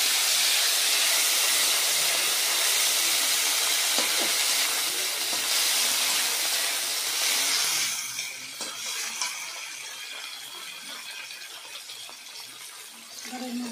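Chopped tomatoes hitting hot oil with whole spices in a pan, a loud steady hiss and sizzle that softens after several seconds into quieter bubbling with occasional crackles.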